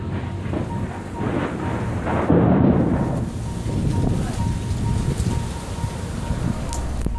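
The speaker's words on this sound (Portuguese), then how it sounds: "O marido de Fabiana estranhou o tempo e começou a gravar a chuva da porta da sala" Heavy rain and wind during a thunderstorm, heard from a house doorway in Campinas, Brazil: a dense steady roar with a louder rumbling gust near the middle, fairly loud throughout with no talking.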